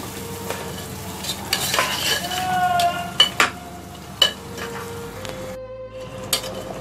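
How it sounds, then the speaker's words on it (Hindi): Mutton with grated tomatoes fries in a pot while a spoon stirs it, a steady close sizzle broken by clinks and scrapes of the utensil against the metal. "अब हम इस गोश्त को अच्छे से भूनेंगे।"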